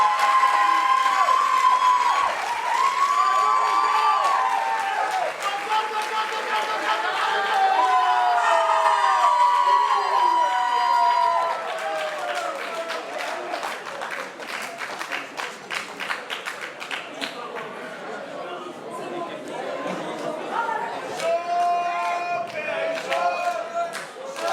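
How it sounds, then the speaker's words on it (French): An award-ceremony audience cheers and claps for Christophe, a club championship winner. The cheering is loud and layered with whoops and shouts, then gives way to scattered clapping and voices as it fades. "à donner un applaudissement pour Monsieur Christophe"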